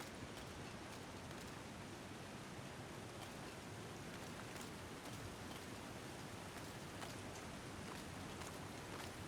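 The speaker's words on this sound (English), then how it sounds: "that was just raindrops hitting my particular window" Raindrops patter against a window pane in a steady, dense wash of rain with scattered sharper drop ticks, continuous and fairly faint throughout, with no talking.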